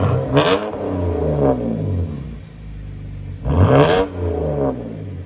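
A 2011 BMW 328i with a 3.0L inline-six and straight-pipe exhaust revs twice, each loud blip rising sharply then falling back to a rumbling idle, close by.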